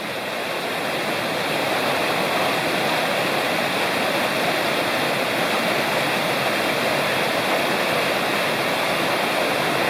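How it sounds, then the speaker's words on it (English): Rapids on the North Fork of Citico Creek in Cherokee National Forest rush in a loud, steady, broadband wash of churning water close by, continuous and alone without voices. "Here's a nice rapid which the sun is illuminating along the North"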